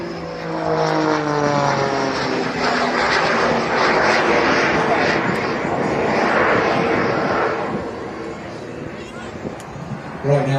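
A turboprop aerobatic aircraft flies at the Ayr air show in Scotland, a loud propeller drone that swells and shifts pitch as it passes, with a commentator talking over it before the sound eases off.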